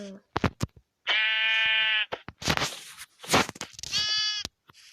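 Sheep in the Minecraft video game bleat in several short, clear cries, alternating with bursts of close voice sounds and clicks.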